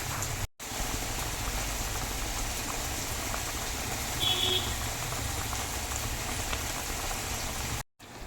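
Steady bubbling simmer of a vegetable stir-fry in an uncovered pan on a low flame, a continuous soft crackling hiss with no voices, constant in level throughout.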